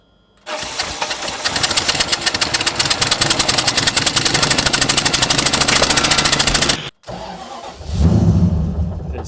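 A Nissan Skyline R33 cranks with a rapid, rattling starter whir for several seconds, then briefly falls quiet before the engine fires into a loud, deep idle close by.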